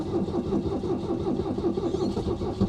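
Car engine cranking over and over without catching, a fast rhythmic churning chug held close and loud for a few seconds.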